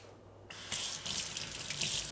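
Running tap water splashes steadily as a humidifier's dust cover is rinsed under it. A Levoit Classic 300S. The broadband rush starts abruptly and continues unbroken, with no voices.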